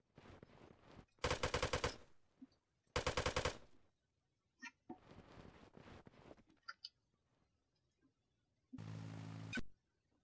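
Gunfire in the survival game Rust: two long, loud bursts of rapid automatic fire early on, scattered single shots and clicks in between, then a third sustained burst near the end, heard alone without talk.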